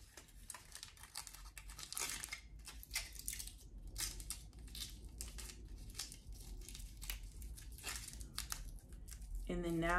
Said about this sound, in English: You're gonna take the foil and wrap it around the hair.